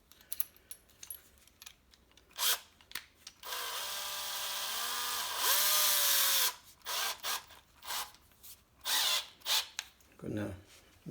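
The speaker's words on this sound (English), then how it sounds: "drill some" A power drill bores a hole for installing a door sweep, one sustained high whine that rises in pitch and cuts off, set among short bursts of clattering handling and tool noise close by.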